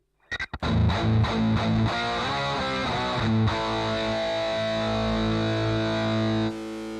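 Heavily distorted electric guitar through a Fender Twin amp impulse response, a few muted picks then a thick ringing chord riff that sustains loudly before cutting off near the end.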